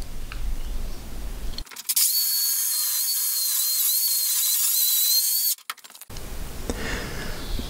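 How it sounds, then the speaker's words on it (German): A chainsaw cutting a wooden ceiling beam indoors gives a loud, steady high-pitched motor whine for about four seconds, close by, between quieter stretches of room noise and handling clatter. "Beim Benutzen der Kettensäge in Wohnräumen kann ich nur jedem empfehlen, Bioöl zu verwenden"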